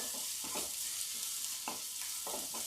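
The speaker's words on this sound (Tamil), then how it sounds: "நல்லா வதக்கிக்கலாம்." Steady sizzle of onions frying in oil with intermittent stirring scrapes, close and continuous, no voices.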